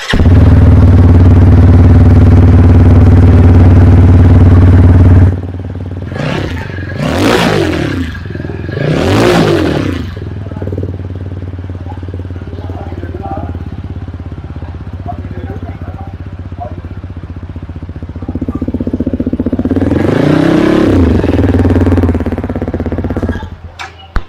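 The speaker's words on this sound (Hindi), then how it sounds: "So let's hear the exhaust sound of this bike." TVS Apache RTR 200 4V motorcycle idling loudly at close range, then sharp throttle blips rising and falling, a pause of lower idle, and one longer rev near the end; no talking.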